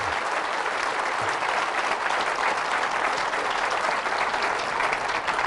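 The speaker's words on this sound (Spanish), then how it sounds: "Fuertes aplausos al Rey de Reyes y al Señor de Señores." A church congregation claps together, a sustained even wash of applause throughout, steady and full with no pauses.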